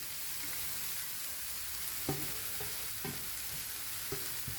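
Grated papaya tossed with a coconut mixture for thoran, stir-fried in a pan, a quiet steady sizzle broken by a few soft scraping stirs of the spoon.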